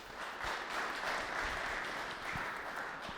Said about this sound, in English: I think he deserves applause